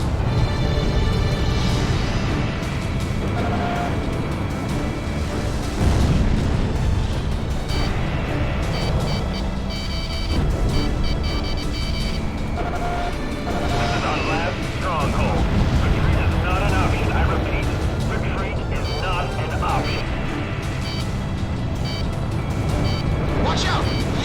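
Missile explosions boom in the aerial combat game Ace Combat 6, a dense, loud rumbling wash layered over continuous jet roar, with several heavier swells of blast noise.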